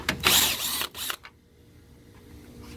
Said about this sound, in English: I'm going to grab my socket with my drill, put an adapter